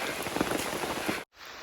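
Steady rain pattering on a hiking trail along the Appalachian Trail during a wet day, a dense continuous hiss that cuts off abruptly near the end before resuming more softly.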